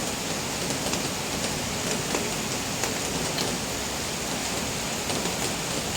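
Steady rain falls continuously, a dense, even hiss with faint scattered drops, no voices.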